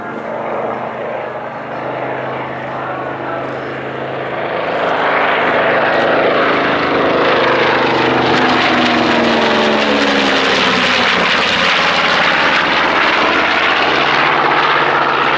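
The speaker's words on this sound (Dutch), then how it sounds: "De Maasdam en zijn co-piloot moeten hard werken om deze manoeuvres met de B25 te kunnen maken." A twin-engine B-25 Mitchell propeller bomber roars through display manoeuvres at an air show at Leeuwarden, its engines droning loudly and swelling as it passes close, with a shifting pitch as it banks away.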